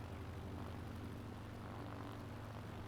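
Steady, faint propeller-aircraft engine drone of a plane taking off from a narrow runway in Microsoft Flight Simulator 2024, a continuous hum and buzz with no speech.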